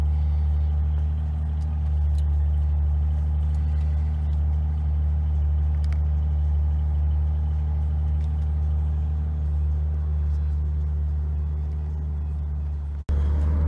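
A Maserati Ghibli SQ4 engine idles steadily after an oil pump replacement, a close, even low rumble that holds unbroken before a brief dropout near the end.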